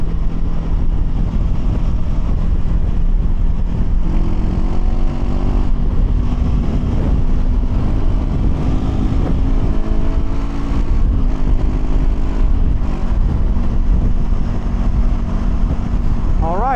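A Honda NX500 motorcycle cruising at highway speed, with steady loud engine drone and heavy wind rush throughout, the engine pitch rising and shifting slightly as it travels.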